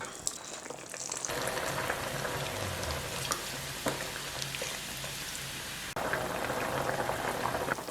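Pork belly for Chinese red braised pork simmering in caramel sauce after beer is added. A steady, dense sizzle and bubbling fills the pan close up and grows slightly louder toward the end, with no voices.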